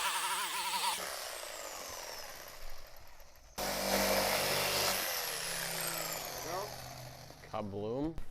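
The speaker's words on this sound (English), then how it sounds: "we need to cut that with a jigsaw" A jigsaw cuts track material for a Traxxas TRX4m crawler track, a buzzing power-tool whine that starts, breaks off briefly and surges again. Voices talk over and between the cuts.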